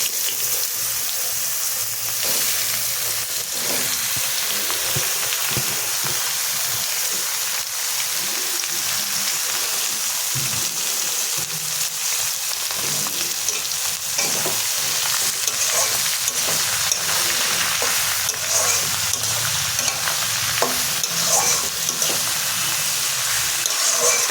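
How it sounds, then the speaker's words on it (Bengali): Bottle gourd pieces fry in hot oil in a Bengali home kitchen, giving a steady sizzle with occasional stirring clatter and wet crackle throughout, with no one talking. "তেলটা এসে গেছে, এবার আমি এর মধ্যে লাউগুলো দিয়ে দেবো।"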